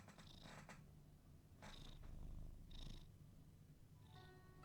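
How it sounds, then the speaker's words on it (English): A pet cat purrs steadily close to a microphone, a low continuous rumble that swells and fades with its breathing, with some brief brighter rustles above it and no talk. "Listen to him purr."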